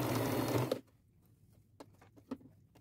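A sewing machine stitches lace onto a dress hem, giving a loud, fast, steady whir that stops abruptly, followed by faint scattered clicks and fabric handling, close up with no talk.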